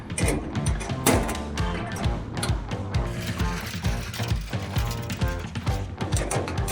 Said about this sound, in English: now I've got a wrench up here, 3/8, and down below I've got a 7/16 to hold the bolt